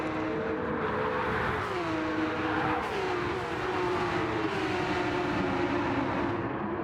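Porsche Cup race car engines in a racing video game drone steadily and loud, pitches rising and falling as several cars rev and shift gears together without a break.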